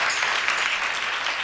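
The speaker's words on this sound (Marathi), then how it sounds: "टाळ्या वाजवा" Audience applause at a kirtan on the Narasimha avatar, a dense, steady wash of many hands clapping together, loud and continuous for the whole moment with no talk over it.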